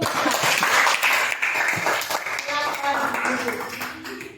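Audience applause at a classroom group presentation, a burst of clapping that swells and then thins, with voices and some talk mixed in throughout.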